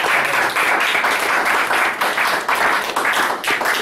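A church congregation applauds steadily in praise of the Lord, a dense, loud wash of clapping that continues without break from start to finish.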